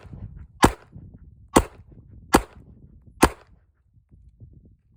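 Four sharp, loud handgun shots ring out alone at roughly even intervals under a second apart, each a crisp crack with a short decay.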